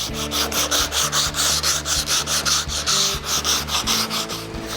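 Body panel of a Mustang restomod being scuffed with 36-grit sandpaper, a loud, close, rhythmic back-and-forth rasp of about a dozen quick strokes.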